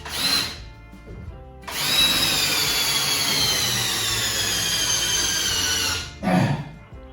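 Power drill with a socket adapter driving screws during interior wall framing of a log cabin, a loud sustained whine of about four seconds, bracketed by shorter bursts of the tool spinning up and stopping.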